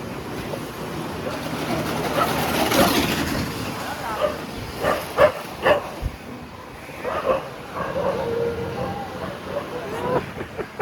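A dog outdoors at night in Chennai gives several short barks and yips, with whimpering sounds between them. A person talks throughout.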